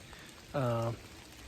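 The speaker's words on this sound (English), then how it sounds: "It's just pouring down rain." Winter rain falls in the Appalachian mountains with a constant soft hiss, and a brief voiced hum cuts in partway through.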